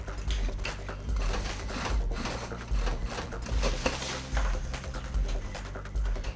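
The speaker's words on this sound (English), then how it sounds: "The worker sews the strap and buckles onto the bag, strengthening the connection with reinforced stitching." An industrial sewing machine stitches a recycled seatbelt strap and buckles onto a bag with reinforced stitching, producing bursts of rapid mechanical chattering and thumping that start and stop in close succession, with no talk.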